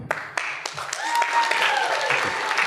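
Scattered, close claps and cheering from a convention panel audience at a sci-fi fan event, sharp at first then swelling into looser applause mixed with voices and laughter.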